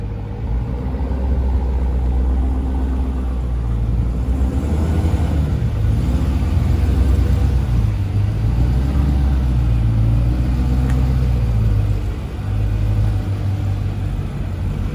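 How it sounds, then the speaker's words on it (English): A Dodge Hellcat's engine rumbles deep and loud as it rolls into a workshop for an exhaust install, holding a steady, throaty drone with gentle rises and falls in revs for around fifteen seconds. "we got the Hellcat coming in, so let me go ahead and record a little bit of that"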